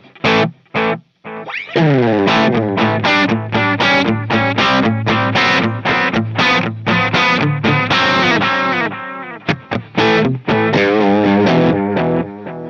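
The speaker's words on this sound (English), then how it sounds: "now we got the blues driver going through this echo" Electric guitar overdriven by a Blues Driver pedal into an echo plays a fast run of chords and notes with echo trailing off, loud and upfront with no talking.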